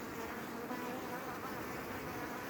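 Honeybees bearding on the outside of a hive in the heat fan their wings, making a dense, steady close-up buzz and hum with no pauses.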